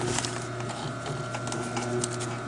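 Sewing machine stitching a diagonal repair on a Vector, a quiet rapid mechanical clatter with a steady hum underneath, close and alone.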